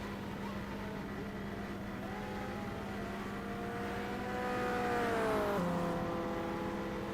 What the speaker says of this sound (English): I think that's like a VW engine.